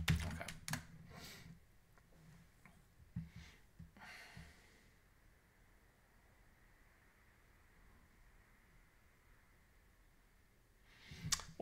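Quick bursts of computer keyboard typing while writing Haskell code, clustered clicks in the first few seconds, a long near-silent pause, then a final cluster of keystrokes at the end, close and soft.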